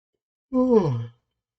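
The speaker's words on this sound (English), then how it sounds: "Sorry, yawn." A single drawn-out human yawn, close and clear, rising then sliding down in pitch over about half a second, set in silence.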